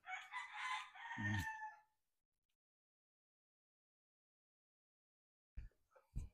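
A gamefowl rooster gives one loud, close crow, followed by silence and then a couple of short clucks.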